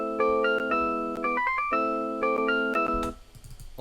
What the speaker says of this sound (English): Or for basic electric piano, it'd sound like this.